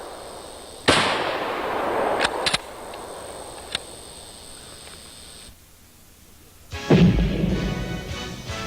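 Shots from an old gun at an outdoor shooting range: one sharp report early on, a few smaller cracks, and then a louder, booming report near the end, with quiet gaps between.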